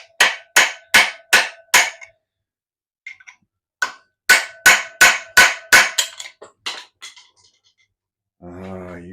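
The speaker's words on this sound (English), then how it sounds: "So just going to do it the old way with a chisel." Sharp, ringing metal strikes of a hammer on a chisel, worked against a stubborn nut during a 13B Renesis bridgeport rotary engine build, come in two quick rhythmic bursts of about five and eight blows with a pause between, close and loud.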